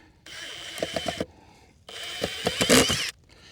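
A power driver sinks screws into a metal footer bracket for an off-grid solar carport. Two close bursts of whirring are each topped with rapid ratcheting clicks, separated by a short pause.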